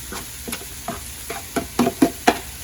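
Sliced mushrooms sizzle in a pan on the stove, broken by a series of sharp scraping stirs that come closer together and grow louder toward the end.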